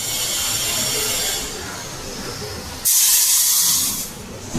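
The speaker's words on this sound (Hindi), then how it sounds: "और जब ये अच्छे से भून जाए तो आप गैस ऑन करके अब इसमें पानी डालेंगे।" Water poured into a hot pan of roasted oats on a gas stove hisses and sizzles loudly and steadily, with a brighter surge partway through, close by and with no talking.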